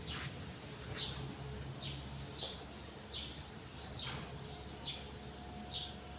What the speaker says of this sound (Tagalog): May ibon. Sa taas mangga.